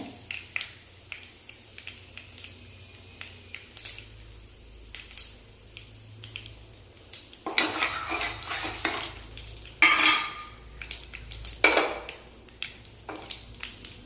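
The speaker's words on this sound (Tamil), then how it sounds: "கடுகு எல்லாம் பொரிஞ்சு வரட்டும்" Mustard seeds splutter in hot oil while preparing egg paniyaram. Quiet intermittent pops and utensil clinks build into louder crackling bursts in the second half.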